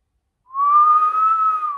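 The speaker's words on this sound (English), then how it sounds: "Then on the way down, I started whistling." A person whistles loudly without using fingers, producing one clear sustained tone that holds steady for over a second, alone and close.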